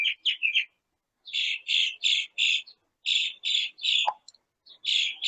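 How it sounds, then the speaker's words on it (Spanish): Small birds chirp in quick bursts of bright, high tweets, several calls grouped together with short pauses between them, close and clear. "Mientras escuchemos a los pajaritos"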